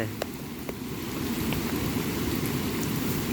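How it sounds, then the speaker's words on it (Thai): Steady rain falling in a rural Thai village, a continuous dense hiss and patter with faint scattered drops, constant and moderately close. "ฝนตกอยู่ตอนนี้ก็ได้"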